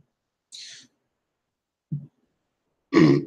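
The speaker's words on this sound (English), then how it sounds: "This Welch's grape juice got me burping all over the place." Burping after drinking Welch's grape juice: a few short, close bursts separated by silence, including a low belch and a louder rougher one at the end.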